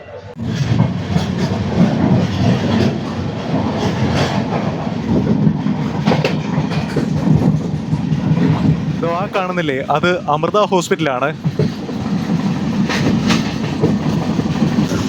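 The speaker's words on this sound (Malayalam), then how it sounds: "വീണ്ടും എറണാകുളം ടൗൺ റെയിൽവേ സ്റ്റേഷനിൽ നിന്നും ട്രെയിൻ പുറപ്പെട്ടിരിക്കുകയാണ്" A passenger train on the Kollam to Coimbatore route leaves Ernakulam Town railway station with a loud continuous rumble and clickety-clack of wheels, while someone talks over it.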